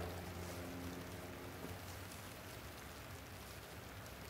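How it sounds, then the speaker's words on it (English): Steady rain hisses around a fishing boat on the water, a dense even wash of drops that holds for the whole stretch, with a faint low hum underneath and no voices. "Hope it don't rain much harder."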